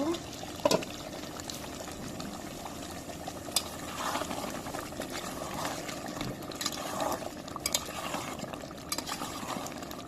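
Beef rezala is stirred in a cooking pot, giving a continuous wet churning and scraping with small clinks throughout, steady and moderately close.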